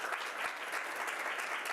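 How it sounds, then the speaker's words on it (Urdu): Applause from a congregation during a church sermon, a dense steady patter of many hands clapping together, sustained and fairly close throughout with no voices over it. "برائے مہربانی ایسے شخص کے لیے جو گواہیاں ہوتی ہیں ان کے لیے تالی بجا دیا کر"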